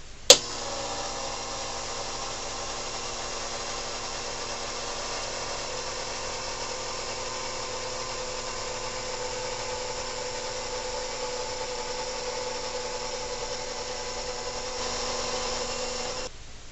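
A Ham II antenna rotor turning back the other way, a steady close motor whine and mechanical hum running continuously and evenly for the whole stretch after a brief click at the start, with no talk.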